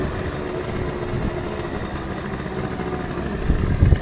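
A 2001 Yamaha Zuma scooter engine runs steadily up close, with a louder, rougher burst of revving near the end as it pulls a wheelie outdoors.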